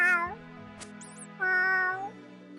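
A person imitates a cat with two drawn-out, voiced meows separated by a short pause. The first is brief and the second is longer and falling, both close and clear.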